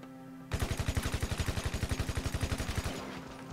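Rapid automatic gunfire in GTA Online, a whole magazine emptied in one sustained burst of about two dozen evenly spaced, loud shots lasting around two and a half seconds, then stopping abruptly.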